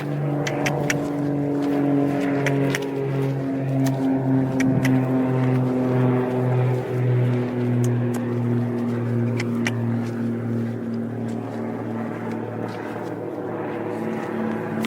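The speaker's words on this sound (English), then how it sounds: "rarely even notice the airplanes until I'm filming, and then I'm like, wow, there's a lot of planes" Airplanes drone overhead at a distance, a long steady engine hum with slowly shifting pitch, heard outdoors with faint occasional clicks and no talking.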